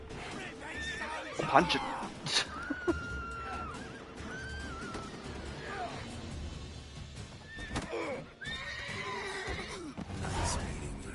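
A horse neighs and whinnies amid game sound effects and background noise in The Witcher 3: Wild Hunt, Blood and Wine, with a brief spoken line partway through.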